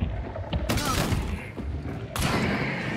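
Gunfire in the video game Hunt: Showdown, two loud broadband shots about a second and a half apart, each with a lingering echoing tail over a noisy background.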